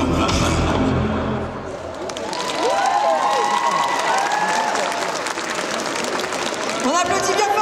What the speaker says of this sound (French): On applaudit bien fort Nécro.